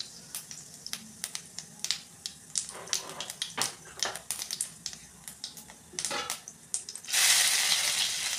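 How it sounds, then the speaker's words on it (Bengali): Cumin seeds crackle and sizzle in hot oil in a home kitchen, a run of sharp close pops and spits that settles into a steady loud hiss near the end. "একটু জিরে ফোড়ন দিল,"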